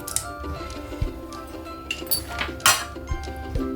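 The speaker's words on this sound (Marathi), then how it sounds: "दोन तीन आईस क्यूब बर्फाचे तुकडे" Light glassy clinks and taps ring out sporadically as two or three ice cubes knock against a glass while making lassi with shrikhand, with a low steady hum underneath.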